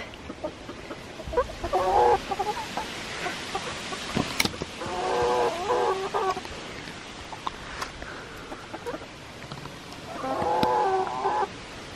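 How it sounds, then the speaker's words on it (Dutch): Backyard chickens clucking in a garden, with several short bursts of calls spread across the clip over quiet outdoor background and a sharp knock partway through. "Kippetjes maken raar geluid."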